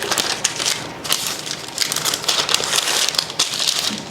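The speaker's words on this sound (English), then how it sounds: "Then I'm going to take my parchment and fold it in half." Parchment paper being folded in half in a kitchen while preparing a cake pan: continuous close crinkling and crackling at a steady level.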